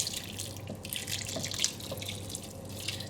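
Water poured steadily into a pot of rice for chicken pulao, a soft continuous splashing stream, close and fairly quiet, with no talk.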